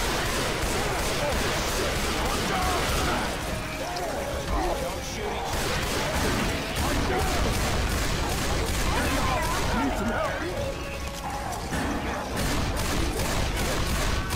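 Dense gunfire from Left 4 Dead 2 survivors pours at the Tank in continuous rattling volleys, loud and close, with chaotic shouting and game noise mixed in.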